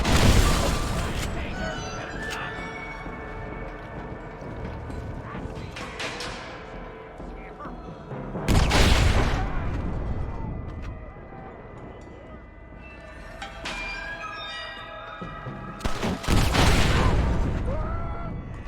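Shotgun fire in the video game Red Dead Redemption, three heavy booming blasts spaced several seconds apart, each trailing into a long rumbling decay under a dense layer of game sound.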